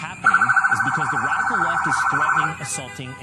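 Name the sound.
police vehicle sirens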